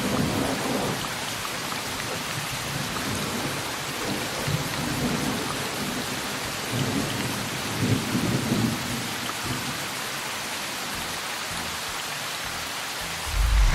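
Steady heavy rain pours down during a thunderstorm, with low thunder rumbles swelling several times under the hiss of falling water, and no voices.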